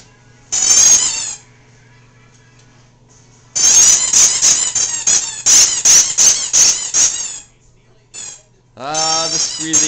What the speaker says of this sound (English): This is our dog that never ever stops squeaking her toy.